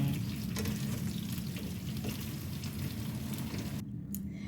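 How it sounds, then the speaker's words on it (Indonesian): Tempeh frying half-done in hot oil, a steady close sizzle and crackle running throughout with light stirring, briefly dropping away near the end. "terus ini tempenya digoreng setengah matang seperti ini."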